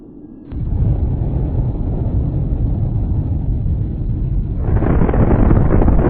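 A loud explosion from a Spanish-language Loquendo zombie film bursts in after a brief quiet start and becomes a sustained, heavy rumble, swelling again near the end with a harsher roar.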